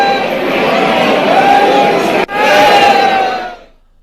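A large crowd of devotees at the Banke Bihari temple in Mathura makes a loud, dense roar of many voices shouting and chattering at once, briefly cut off midway before fading out at the end.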